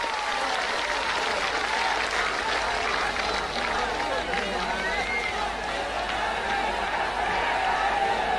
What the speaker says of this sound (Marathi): जोरदार टाळ्या वाजवायच्या आपण सगळे।